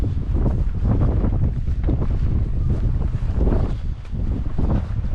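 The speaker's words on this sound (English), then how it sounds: "Windy day." Strong wind gusts buffet the microphone outdoors on a blustery summer day in Pond Inlet, with gusts up to 30 miles an hour, a loud continuous low roar that surges and dips without a break.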